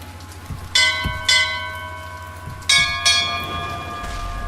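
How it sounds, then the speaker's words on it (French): Church bells ring in the video game Bioshock Infinite, four loud clanging strikes in two pairs, each leaving a long ringing tone, with no talk over them. "Ah, on entend le bruit des cloches."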